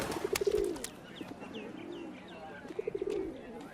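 Soft pigeon or dove coos, two short bursts of bubbling calls near the start and end, close and fairly quiet, with faint chirps and a brief voice in between.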